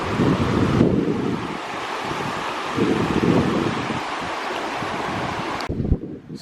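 Mountain brook in the Adirondacks, New York, rushing steadily as a broad, close wash of flowing water with some wind buffeting, continuous throughout and cutting off near the end.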